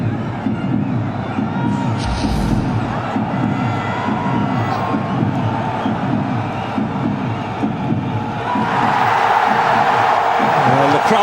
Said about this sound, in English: Well, the crowd come to life.